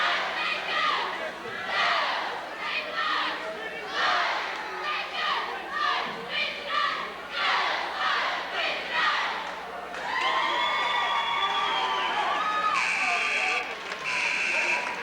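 Crowd and cheerleaders at a 1990 high school basketball game, rhythmic chanted cheers in a large gym followed by a buzzer-like tone and sustained crowd noise.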